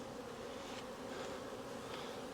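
Honeybees on a hive frame drone in a dense, continuous buzz, close and steady, with a few individual bees swelling briefly louder.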